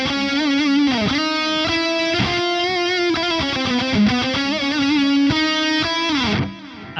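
A distorted metal guitar tone run through Revalver's delay effect plays a string of picked, sustained notes, each trailed by echoing repeats, before the sound cuts off near the end.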